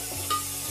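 Masala paste for a Godavari-style sand-fish curry frying in a pan, giving a short, steady close sizzle with one brief stir or scrape partway through.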